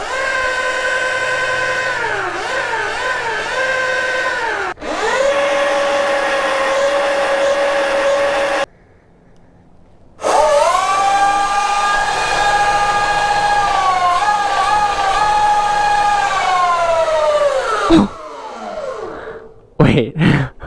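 An eridepro SS electric dirt bike pinned at full throttle, its motor whine climbing and holding steady in long rising tones, cutting out briefly midway, then returning loud and close before easing off near the end.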